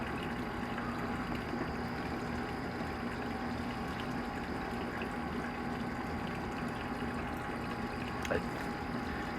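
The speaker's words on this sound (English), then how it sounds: "You should see it's actually draining all the sudsy water out of the tub right now." An LG WT1101CW top-load HE washer drains sudsy water from its tub, producing a steady, moderate rushing and pumping drone with no break.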